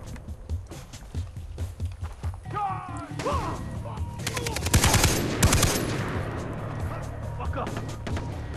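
Rapid gunfire bursts in the co-op shooter game Far Cry 3, crackling loud and close in clustered volleys amid game sounds, with people talking over the action.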